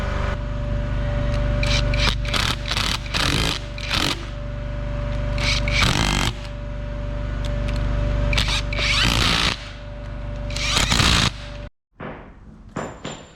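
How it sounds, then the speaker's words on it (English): Bolts being run down on a separator plate during Cat 735 torque converter assembly, a series of loud bursts from a power tool with scraping and clattering between them, close up in a workshop, ending in near silence. "So let me go ahead and just get this bolted down"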